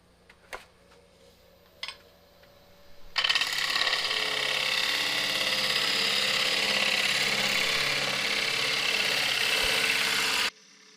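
A wood lathe turns a wooden bowl while a gouge makes a cut, producing a loud, steady whirring scrape for about seven seconds after a couple of faint clicks, with no talking.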